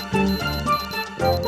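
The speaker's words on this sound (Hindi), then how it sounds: "ये एक चेतावनी यंत्र की आवाज है जो तुम्हारे सिर पर बज रहा है।" A magical warning device chimes in a children's fantasy TV show, with bright ringing tones in a short tinkling pattern, loud and close, with no talking.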